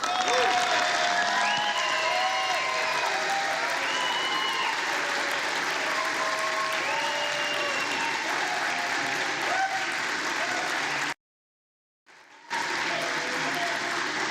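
Sustained applause from a large crowd in the House chamber during the nomination of Kevin McCarthy for Speaker of the 118th Congress, dense and steady clapping that cuts off abruptly near the end before faint noise resumes.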